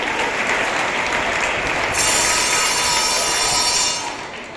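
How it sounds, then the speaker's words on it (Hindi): Loud, sustained applause from an audience at a Kargil Divas celebration, cheering on a stage play, a dense steady roar of many hands that fades near the end. "आइए जोरदार तालियों के साथ इन्हें प्रोत्साहित करते हैं"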